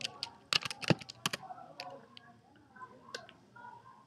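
Quick bursts of computer keyboard typing, close and fairly quiet, with a few sharp key clicks clustered early and then sparser taps trailing off.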